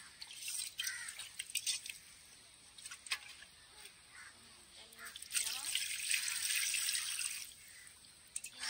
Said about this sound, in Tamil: இப்போ திரும்ப இந்த சட்டியில் தண்ணி ஊற்றி